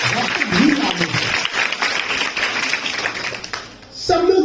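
Audience at a Republic Day gathering at an institute applauding mention of Dr. Bhimrao Ambedkar, a busy crowd of clapping hands sustained for several seconds, with a voice coming in at the start and end.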